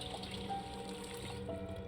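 Water trickles steadily into a container in the Project Zomboid video game, a quiet, even flow that runs unbroken for the whole stretch.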